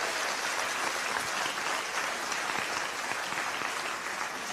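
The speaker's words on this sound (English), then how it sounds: "They both deserve a big round of applause." Steady, dense applause from an audience at a diamond jubilee inauguration ceremony, continuous clapping filling the whole stretch without a break.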